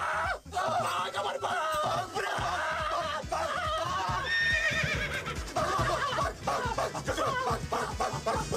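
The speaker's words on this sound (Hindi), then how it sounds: "तूफान ने हमें घोड़ी के कॉस्ट्यूम में देखकर सचमुच की घोड़ी समझ लिया है" A horse neighing in a comedy film scene, loud drawn-out whinnies and snorts close up, with scattered bursts of other animal noise around them.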